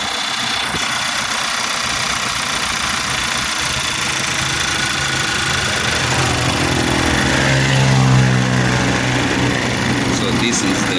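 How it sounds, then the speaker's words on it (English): A 2010 VW Passat's 2-liter turbocharged petrol engine idles with a steady, slightly rough running note, close and continuous, its pitch rising briefly near the end. "2-liter turbocharged petrol engine, producing 200 horsepower, 280 Newton meters of torque"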